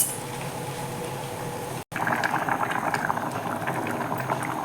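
A moong dal and banana flower kootu bubbles and simmers steadily in a pot, a continuous close-up boiling texture with a brief dropout partway through.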